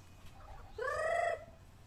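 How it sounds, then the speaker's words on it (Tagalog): Chickens drawing closer at a Filipino poultry seller's, with a single clear bird call in the middle of a quiet stretch of low background noise. "Lumalapit na yung mga manok."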